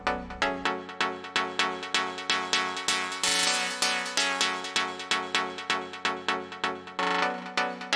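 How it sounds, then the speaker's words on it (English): A synth pad in the break of an electronic music track, sustained chords pulsing in a steady rhythmic pumping pattern with bright upper harmonics, loud and alone with no voices. "it's the pad that I made with silent, and the sounds like this."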